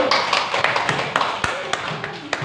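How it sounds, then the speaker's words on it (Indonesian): A classroom of primary students claps for a student group, giving a loose, uneven patter of hands with scattered sharper slaps, fairly close and moderately loud. "kita kasih tepuk tangan untuk kelompok 1"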